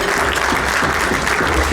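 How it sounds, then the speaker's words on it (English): A dense, steady round of applause from a large audience at a cancer hospital fundraising dinner, loud and continuous throughout with no gaps or voices. "I think they deserve a round of applause."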